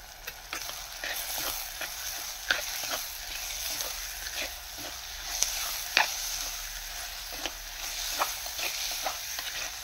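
A dried fish thokku mixture seasoned with rock salt sizzles softly in a pan, with repeated scrapes and stirs of a spoon over the steady frying hiss.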